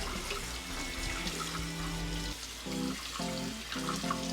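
Cold tap water runs from a kitchen faucet through a colander of cooked potatoes over the sink, a steady close splashing stream with some gurgling, uneven tonal bursts later on.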